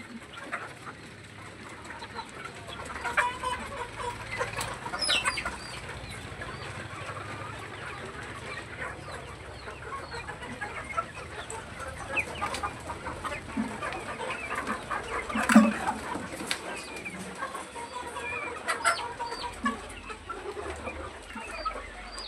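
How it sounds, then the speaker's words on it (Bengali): A large flock of Sonali chickens on a poultry farm clucks and murmurs continuously, many overlapping calls at a steady level with occasional louder squawks. "আর এই নিচের লটে সব সোনালী মুরগি।"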